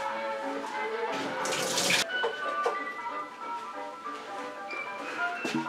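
Running tap water rinses out a metal can and its cap. A steady splash and flow continues throughout, with a brief louder gush near the start and light clinks of metal, fairly close.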